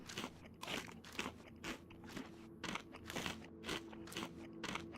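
A character eating a small fish in DayZ on the Deer Isle map, with crisp repeated biting and crunching chews at a steady rhythm, close and fairly quiet.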